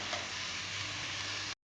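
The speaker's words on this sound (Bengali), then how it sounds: "আলু গাজরের মধ্যে পেঁয়াজ আর লঙ্কা দিয়ে একটু অল্প করে একটু নাড়াচাড়া করে নেব প্রথমে।" Potato, carrot, onion and chopped chili frying together in a pan, giving a steady, soft sizzle that runs evenly for about a second and a half before cutting off abruptly.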